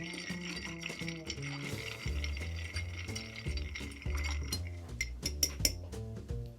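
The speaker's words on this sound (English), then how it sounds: "We're gonna stir what's in our mixing glass." A Sazerac cocktail gets stirred in a mixing glass, with ice clinking and rattling against the glass in a quick, continuous rhythm. The sound is close and moderately loud.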